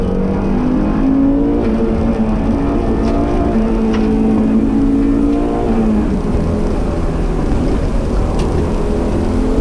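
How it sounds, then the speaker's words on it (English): A rally car drives hard through a forest stage at Grimsthorpe Castle, braking into a sharp right-left then accelerating off a bridge into the woods; loud, close engine with rising and falling revs throughout, no talk. "we then go hard on the brakes into a sharp right left before accelerating from the bridge into the woods"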